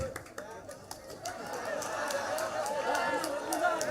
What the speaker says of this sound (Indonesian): Tepuk tangan buat yang puas,